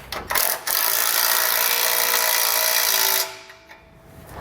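A power ratchet tightens bolts on a front-mount trailer hitch on a 2021 Ford truck, a loud, continuous buzzing rattle lasting about three seconds after a couple of short bursts, then stopping.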